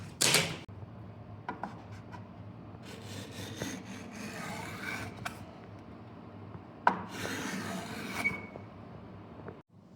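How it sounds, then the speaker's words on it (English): A hand plane shaving wooden bed slats down to size, with repeated rasping strokes in bursts separated by short pauses, close up and moderately loud, mixed with knocks and handling of the wood. "So I'm taking these and making little marks and hand planing these all down to size."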